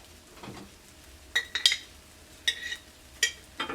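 A metal spoon scraping and clinking around a pan of thick semolina sheera, giving about five sharp, separate clinks over a quiet background.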